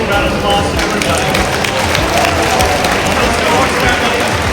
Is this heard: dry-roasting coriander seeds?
no